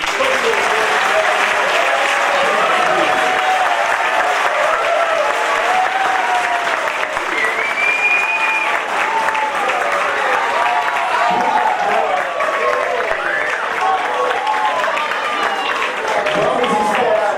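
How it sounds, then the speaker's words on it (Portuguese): Audience applauding at a theology graduation ceremony, loud, dense and continuous clapping from a large crowd that holds steady throughout, with some cheering voices mixed in. "Aqui eu peço todo aplauso"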